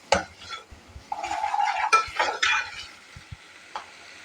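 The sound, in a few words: mixing stuffed tinday filling in a pan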